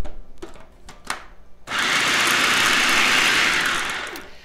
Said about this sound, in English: So I've added a can of black beans to my food processor, drain them, rinse them, and I'm just going to break them down just a little bit